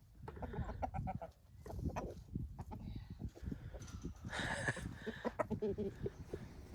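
An old rooster clucks on a farm with a few quiet, scattered calls close by over soft background rustling.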